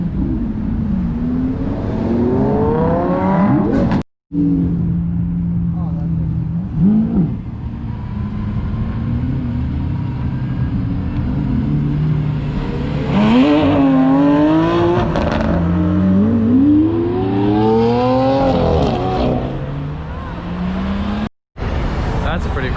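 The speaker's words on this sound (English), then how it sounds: "Got the nice old Jag XK8 leaving, and right behind it, Huracan and the Evora GT." A Jaguar XK8, a Lamborghini Huracan and a Lotus Evora GT leaving a cars and coffee meet one after another, engines revving and rising in pitch as they pull away, loud and close, with people talking nearby.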